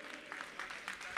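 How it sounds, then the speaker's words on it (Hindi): An audience at a Jain religious discourse event claps for Ashok Bhaiya Ji, a brief, dense patter of applause with a voice speaking over it. "जोरदार अशोक भैया जी के लिए ताली ताली बजाइए"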